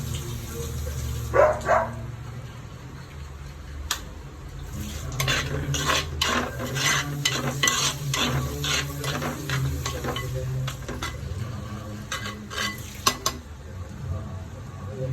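Squid curry stirred in a pan with a metal spoon, giving irregular clinks and scrapes against the pan over a soft background hum.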